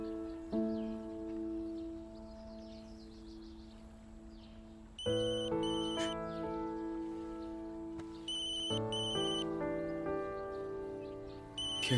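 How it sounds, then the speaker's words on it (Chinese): A mobile phone rings with a melodic electronic ringtone that repeats its tune in clear phrases, fairly close and alone with no talk. "天真的电话。"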